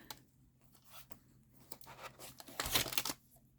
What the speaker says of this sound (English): now I'm going to cut this off